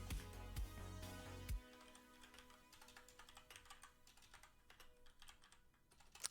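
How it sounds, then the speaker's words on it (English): Fast, steady typing on a computer keyboard, with close, crisp key clicks in a dense irregular stream, opening with a few heavier thumps before settling into continuous quick tapping. "Now my typing's more consistent, better speeds overall."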